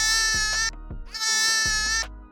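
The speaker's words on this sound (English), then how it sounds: "A lamb." A lamb bleating twice, loud and close, each call a high, quavering cry lasting under a second with a short gap between them.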